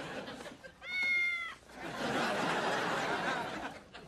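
A cartoon cat gives one drawn-out meow, rising then falling slightly, followed by a stretch of broad noisy background.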